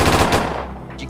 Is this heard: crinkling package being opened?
no